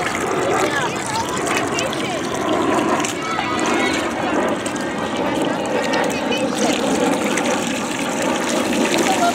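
Water pours from a bucket outdoors during children's play with toy construction trucks, a steady, dense rushing splash that runs the whole time, with children's voices nearby.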